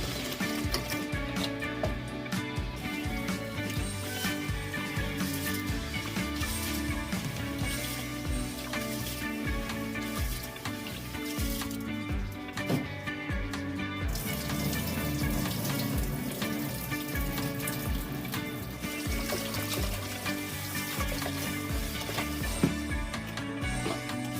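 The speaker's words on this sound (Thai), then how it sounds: "เราก็จะนำไปซาวน้ำทิ้งสักสองน้ำนะคะ" Soft, fragrant Benjarong jasmine rice is rinsed in water while chicken rice is being made: a steady, continuous wash of sloshing water with small clinks throughout, close and fairly loud.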